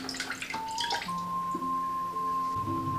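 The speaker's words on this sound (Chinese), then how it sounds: "现在我们再一条一条的给它清洗干净" Small fish are rinsed by hand one at a time in a basin of clean water, with soft splashes and drips over a steady hum, close and quiet, without speech.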